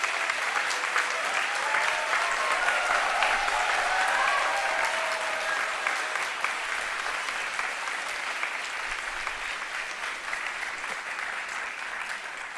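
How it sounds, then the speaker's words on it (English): Steady, dense applause from parents filling a hall at a university convocation ceremony, sustained and fairly loud for over twelve seconds with no talking over it, tapering only slightly toward the end. "Parents can now clap for the success of their wards."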